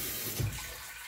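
Water runs into a tub for washing clothes, a brief, steady rushing pour with a slight surge midway, heard alone.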